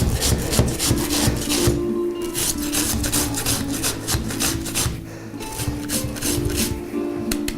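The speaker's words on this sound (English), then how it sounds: "And I like to grate the onion." An onion being grated on a grater for a crab dish, a close, continuous rasping scrape in repeated back-and-forth strokes, loud and dense with brief pauses between passes.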